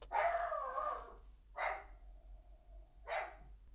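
A dog gives three sharp barks spaced about a second and a half apart, moderately close but fairly quiet, with no talking over them.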